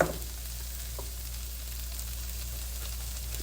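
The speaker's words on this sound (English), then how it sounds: "we're going to go ahead, we're going to add our rice." Rice hits a hot frying pan with pork chops for a yellow rice dish, setting off a steady, close sizzle with a sharp burst at the start that holds evenly throughout, with no talking.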